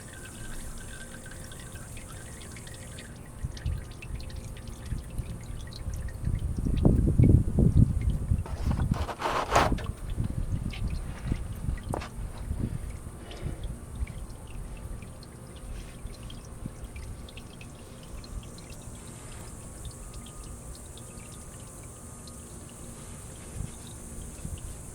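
Engine oil draining from a 1999 Mazda Miata, a steady low liquid pour and trickle that swells briefly into a louder gush midway, then settles back to a quiet continuous flow with faint drips.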